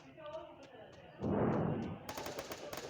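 Rapid gunfire from the mobile battle royale game Free Fire, a dense burst followed by a clicky rattling stream of shots, with a voice talking faintly beneath earlier.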